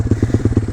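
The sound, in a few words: small dirt bike engine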